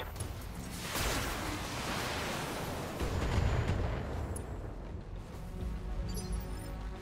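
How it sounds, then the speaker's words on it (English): In BattleTech, a precision artillery strike pounds a Panther mech with a loud, sustained booming barrage of rumbling blasts that swells, peaks midway, then trails off. "Precision strike on the panther."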